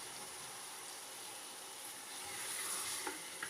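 Bone-in beef, about 1.5 kg, sizzling steadily in a hot pot of fried onions, ginger and garlic for Pakistani beef nihari. The hiss is continuous and swells slightly near the end, with a couple of faint clinks.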